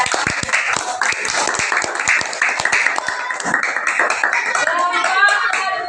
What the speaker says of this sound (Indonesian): Tepuk tangan buat kelompok Tia.